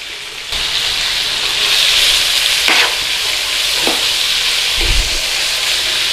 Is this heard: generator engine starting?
no